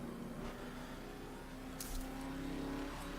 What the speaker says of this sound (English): I like the engine noises